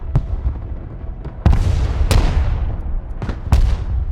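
Artillery fire in the video game Broken Arrow, several loud, sharp booms at uneven intervals over a low rumbling battlefield background.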